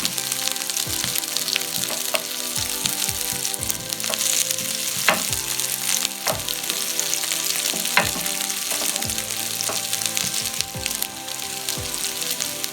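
Vegetarian chickpea shami kebabs fry in a pan with a loud, steady sizzle and dense popping crackles, close up and continuous, with no talking.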